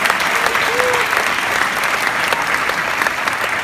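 Audience applause at a theatre Q and A in Hollywood, dense and loud clapping from a crowd lasting the whole stretch, with a brief voice over it.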